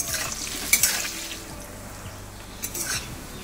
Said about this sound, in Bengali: আর এবার প্রথমে পটলগুলো ভাজতে বসাবো।